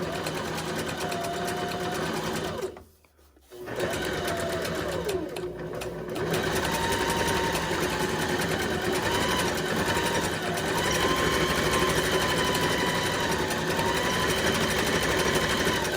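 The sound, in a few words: sewing machine stitching a tote bag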